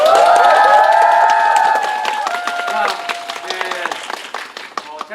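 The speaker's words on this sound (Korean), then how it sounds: "큰 박수 한 번만 부탁드립니다" Audience cheering and clapping at a stage greeting after a Korean stage play's final performance, high excited shouts and squeals ringing out first, then settling into scattered loud claps and voices from a lively crowd.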